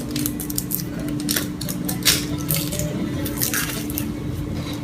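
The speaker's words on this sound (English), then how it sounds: "I'm just going to cut some onion" Purple onion cut with a knife, a series of crisp, wet slicing crunches repeating at an uneven pace, close and clear over a low steady background hum.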